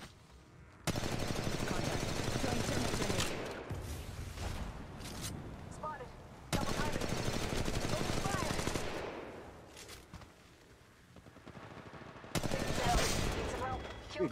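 Gunfire in the Apex Legends Mobile battle royale game, long loud bursts of rapid automatic fire in three extended volleys separated by quieter stretches with game sounds.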